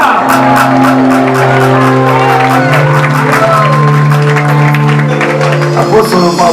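A church congregation at a convention gathering claps and cheers together, a steady dense wash of applause and shouts running throughout while a loud voice and sustained music carry over it.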